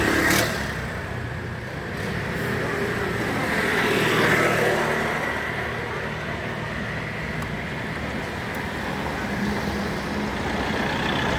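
A motor tricycle engine passes along a road in Maabud, San Nicolas, Batangas, its drone rising and swelling before easing off, over a steady background of traffic noise.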